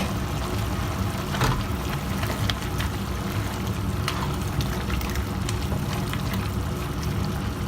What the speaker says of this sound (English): I'm just going to add the plain yogurt.